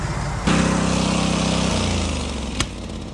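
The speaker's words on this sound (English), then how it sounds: "Get the auger fired up here and start" Engine of a grain auger on a farm starts up and runs steadily while loading wheat, a loud close droning hum with a sharp knock partway through.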